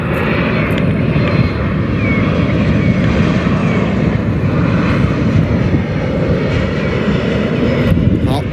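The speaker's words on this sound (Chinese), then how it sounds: "这是一架波音737的 MAX 8来了。" A Hainan Airlines Boeing 737 MAX 8 comes in to land at an airport, its engines giving a loud, steady roar that holds throughout, with faint talk beneath.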